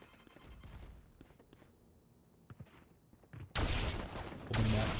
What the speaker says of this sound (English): lobbing a nade into showers there